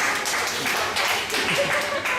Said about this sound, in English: Okay, a round of applause for her.